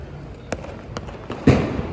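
Diwali firecrackers bursting in Upleta: a few sharp, separate bangs, with one louder, fuller blast near the end over faint background noise.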